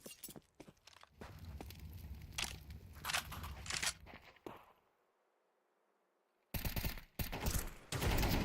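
Rapid bursts of gunfire from an esports match of a competitive video game crackle in clustered volleys, fall silent briefly, then resume in sharp repeated shots.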